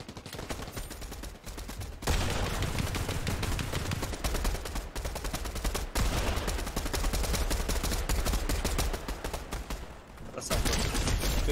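Dense video-game gunfire crackles in rapid bursts and long sustained volleys during a competitive Fortnite Cash Cup match, loud and continuous with brief pauses, while players talk over it.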